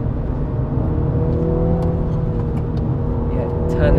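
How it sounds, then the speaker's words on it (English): A 2020 Mini JCW GP3 driving on a road, its exhaust giving a steady loud droning hum with rising engine tones, heard from inside the car as someone talks over it. "the exhaust actually sounds pretty good"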